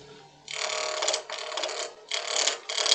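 A large roughing gouge cuts a goblet blank on a wood lathe in bursts of harsh, scraping hiss, stopping and starting several times at moderate volume.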